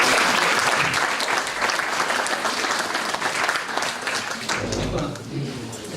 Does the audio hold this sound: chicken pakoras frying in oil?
no